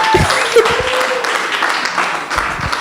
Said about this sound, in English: A round of applause as we welcome to the stage Bikia Graham Douglas.